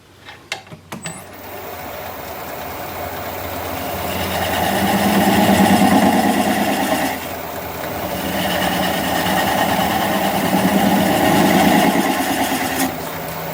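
A wood lathe spins end grain as a swept-back bowl gouge cuts into it, a steady droning whir with a louder scraping hiss that swells, dips briefly, then rises again, after a few initial clicks.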